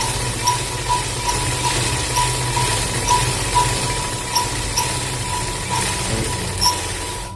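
Sewing machine stitching a shirt collar, a steady mechanical run with a regular rhythmic tick and a low motor hum throughout, close and fairly loud, with no talking.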